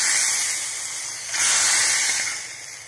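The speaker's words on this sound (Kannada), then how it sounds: "ಇದಕ್ಕೆ ಒಗ್ಗರಣೆ ಹಾಕುವ" Tempering sizzles in hot oil for an Udupi-style bamboo shoot dish, a steady loud hiss that swells briefly partway through and then eases off, with no voices.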